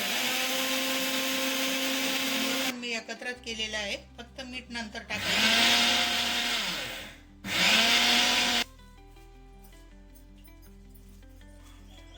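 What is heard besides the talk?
mixer grinder grinding spice masala for stuffed chillies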